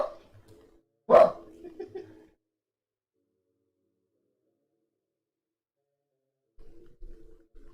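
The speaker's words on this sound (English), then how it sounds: "Did you guys hear that dog?" A dog barks outside, one loud bark followed by a few fainter ones, then quiet before more distant barking returns near the end.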